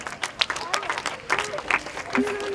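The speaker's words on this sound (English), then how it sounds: "give a big hand of applause for all the participants" Audience applause for competition participants in a hall, a short burst of scattered clapping with crowd murmur beneath.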